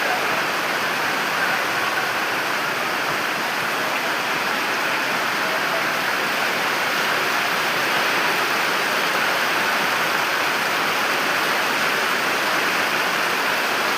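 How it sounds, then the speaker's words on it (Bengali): Heavy rain pours down in a dense, unbroken roar of water, loud and steady from start to finish with no pauses or separate drops. "এত বৃষ্টি"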